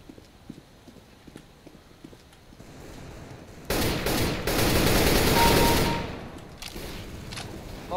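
Gunfire in a CS:GO deathmatch video game: a sustained, dense burst of loud shots swells for about two seconds after a stretch of sparse clicks and footsteps, then fades back to quieter activity.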